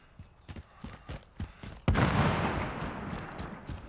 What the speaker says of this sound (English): I hear people shooting.